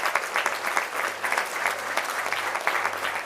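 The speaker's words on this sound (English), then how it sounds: "Please so give them a big round of applause" Hearty applause from the audience at a CII startup summit, many hands clapping together in a full, sustained burst with slight pulsing, fairly close, with no speech.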